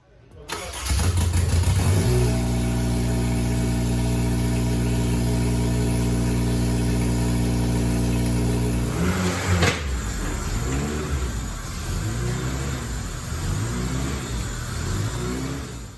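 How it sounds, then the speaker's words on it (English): A 1995 Honda Civic with a swapped-in K24 engine cranks with a long steady whirring starter, then fires up and settles into an uneven running idle close by, with a few rev-like surges. "the car finally fired up."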